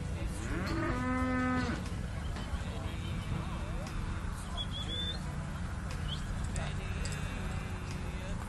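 At a team penning sort event, one cow gives a single loud moo near the start, then ambient arena noise with faint bird calls carries on.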